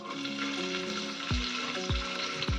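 Chopped onions go into hot oil and fry for biryani, giving a steady close sizzle broken by three low thumps, with no one talking.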